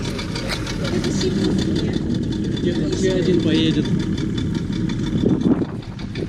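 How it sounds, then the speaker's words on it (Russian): Speedboat engine idling at a Cuban resort, a steady loud rumbling drone throughout with someone talking over it. "В общем, мы на катере."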